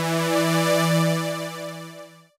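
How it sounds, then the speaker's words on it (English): Sawtooth wave from oscillator one of the U-he Zebra software synthesizer, a single bright, buzzy sustained note rich in harmonics that holds steady and then fades out near the end. "on oscillator one, we've got it set to a sawtooth wave"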